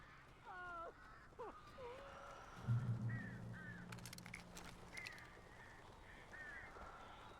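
Crows caw in the video game Alan Wake, harsh calls from several birds repeated at intervals over a low rumbling background, with a voice speaking briefly beneath them.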